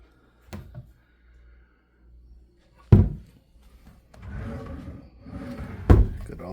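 Several wooden thunks and knocks sound as empty hotel room drawers slide open and shut, separated by short quiet gaps, with soft rustling between them.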